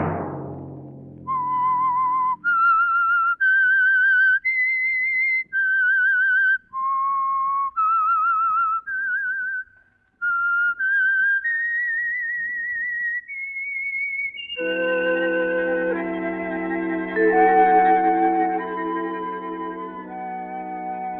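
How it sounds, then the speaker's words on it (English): A lone whistled theme signal for The Whistler radio program, a clear melodic tune of separate held notes, followed by an orchestral passage rising beneath it. "Let that whistle be your signal for the Signal Oil program, The Whistler."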